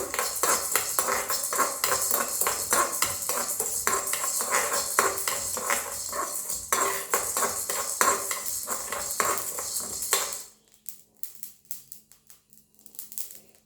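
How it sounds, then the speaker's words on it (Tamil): Steady metallic scraping and clinking of a utensil stirring black pepper and cumin dry-roasting in a pan, continuous for about ten seconds before dropping to near silence. "மிளகு போட்டுக்கலாம், ஜீரகம் போட்டுக்கலாம், போட்டுக்கிட்டு வறுத்துக்கணும்."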